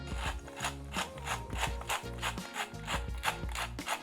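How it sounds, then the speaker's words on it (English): A unicorn-shaped grinder cracking black pepper for a zucchini vinaigrette, with a steady ratcheting, gritty crunch in quick repeated twists, close and clear. "I really like these unicorn grinders."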